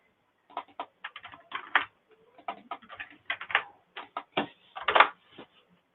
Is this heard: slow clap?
no